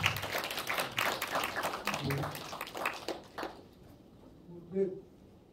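Audience at a teacher training session claps in a burst of applause for about three and a half seconds, then it dies away into near quiet with a brief murmur of voices.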